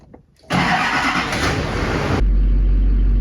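A Duramax pickup truck on a test drive gives a sudden loud, broad engine roar that holds for under two seconds, then drops to a steady low hum, heard close with no talk.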